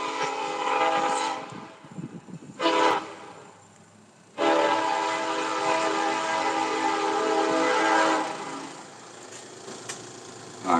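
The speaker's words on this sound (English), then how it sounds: "Here comes the train." A train rolls past close by with loud, sustained horn blasts, then a short quieter gap before the horn sounds again over the heavy rumble of the passing cars.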